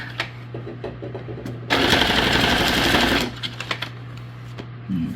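A sewing machine stitches zigzag across a paper junk journal tag in one close, loud, rapid mechanical burst of about a second and a half, framed by quieter handling noises and a low steady hum.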